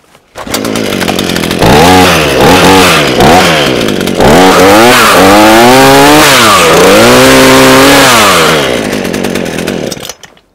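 A chainsaw close by is revved in several short throttle bursts, then held at a loud, sustained, rising and falling whine before cutting off.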